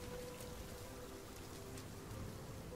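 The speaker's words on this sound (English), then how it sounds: "hearing rain in this game soothes my body because I love rain" Steady rain falls in the video game RiME, a soft continuous patter of drops with no voices over it.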